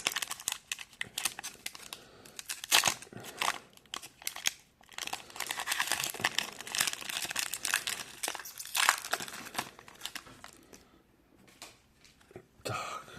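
Crinkly plastic foil of a hockey card pack is torn open and crumpled, with bursts of sharp crackling and rustling, close up, in uneven clusters with brief quieter pauses and no talk.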